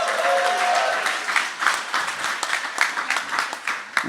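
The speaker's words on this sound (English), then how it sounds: "So let's kick off the afternoon with a round of applause for Rachel." An audience at an ecommerce agency summit applauds a conference panelist with steady, full clapping that gradually thins into scattered individual claps toward the end.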